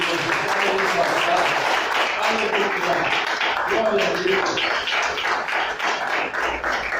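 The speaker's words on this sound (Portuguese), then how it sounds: "Quem crê pode aplaudir." A church congregation applauds steadily for several seconds during a worship service, the dense clapping continuing while a preacher's voice calls out praise over it.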